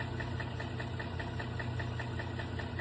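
A GM Silverado engine idles with a steady, rapid metallic knocking ticking through a continuous mid-pitched hum, close and even throughout.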